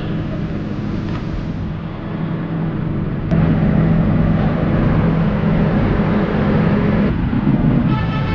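Chitra Express train pulling out of Alamdanga station in Bangladesh, a continuous close rumble that swells louder partway through, with a brief horn toot and no voices.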